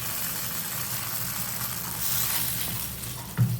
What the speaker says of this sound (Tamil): பாருங்கள், நல்லா வந்துட்டு முந்திரி பருப்பு வறுக்காச்சு